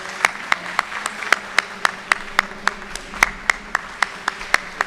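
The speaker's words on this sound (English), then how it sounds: "The whole room stands with applause." Applause at a Kentucky Bourbon Hall of Fame induction ceremony, heard as a steady run of sharp, evenly spaced claps that stand out close and distinct over a soft room background.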